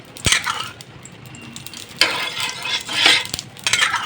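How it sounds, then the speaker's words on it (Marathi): Oil spread across a hot griddle before making rice flour dosa, with bursts of sizzling and metal scraping in short strokes, near and fairly loud, separated by quieter pauses. "आता ह्याच्यावर सगळीकडनं आपण तेल टाकून घेऊ"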